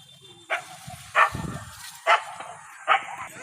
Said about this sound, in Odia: ଏଇ ଝିଅ ଗୁଡ଼ାକ କୋଳି ତୋଳୁଛନ୍ତି ବୋଲି ସେମାନଙ୍କୁ ଭୁକୁଛି